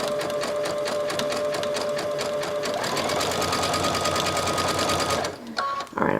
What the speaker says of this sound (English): Now I'm just doing a standard zigzag stitch.